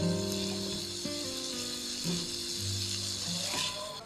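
Onions and green chilies fry in a spiced fish masala, a steady close sizzle with occasional stirring and an overtone hum in the background.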